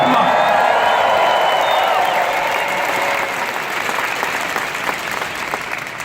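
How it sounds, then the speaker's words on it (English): Dense applause from a large conference audience fills the room, loud and steady with scattered whoops and cheers. It tapers slightly partway through but keeps going to the end. "Deserves a round of applause"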